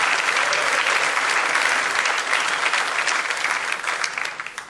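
An audience at the Teatro Paisiello in Lecce applauds during a music festival evening, with dense, steady clapping that fills the hall and then starts to thin and fade near the end.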